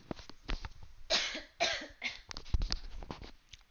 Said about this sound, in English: sorry, I get a cough.